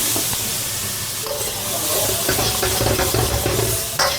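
Cabbage stir-frying in a hot wok with rice wine and soy sauce, giving a loud, continuous sizzle and hiss with scraping stirs, close by.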